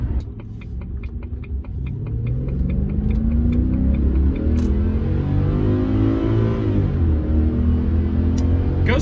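A Jaguar XJ8's engine revs up close, its roar rising steadily toward redline and holding loud and strained, with a light ticking in the first seconds.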